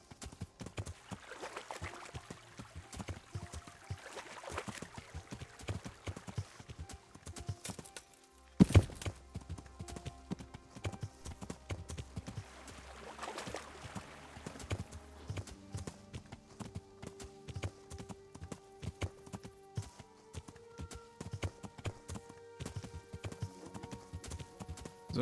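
Horse hooves clip-clopping in the video game Kingdom Come: Deliverance, a quiet steady rhythmic trot running throughout, with a brief louder thump partway through and soft game ambience underneath.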